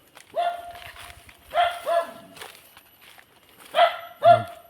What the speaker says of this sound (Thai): มันเห่าอะไรครับ